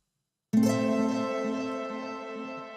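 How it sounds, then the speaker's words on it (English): A single plucked strum from a sampled nylon-string acoustic guitar rings out after a short silence, bright at the attack and then slowly decaying over a couple of seconds. "I wanted a plucked strum, so I used a nylon acoustic guitar"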